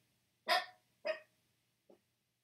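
A dog barks indoors, two sharp close barks followed by a softer short yip, each separated by brief silence.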